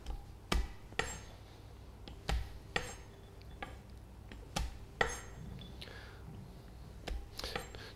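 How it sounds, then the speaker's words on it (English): Nuts for a haddock salad being gently crushed, a series of sharp knocks and taps spaced a second or so apart, close and fairly quiet over a soft background. "just to gently crush them down, because I don't want the whole texture going through the salad"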